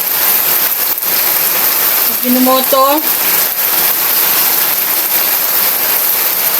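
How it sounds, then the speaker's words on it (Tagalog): Loud, dense rain pours down steadily, a constant roaring hiss, with a brief voice speaking faintly beneath it. "lumakas na naman ang ulan."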